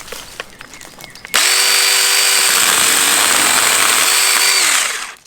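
A Ryobi 8 inch chainsaw cuts small branches outdoors, starting after a few light clicks with a sudden loud, high buzzing whine that holds steady for about four seconds, shifting pitch slightly under load, then winds down.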